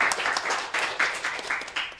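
Audience applause at a free nutritious school meal program event, a crowd clapping steadily and fairly close for a couple of seconds with no talk over it.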